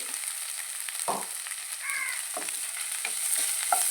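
Onions frying in a pan with green chilli paste, a continuous close sizzle broken by several short scraping strokes of a spoon as they are stirred.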